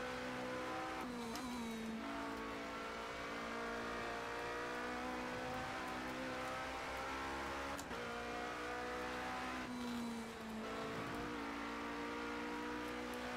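A race car in Project CARS 2 at Le Mans roars steadily at high revs, its engine note climbing and dropping sharply through gear shifts and corners, loud and continuous with no voices.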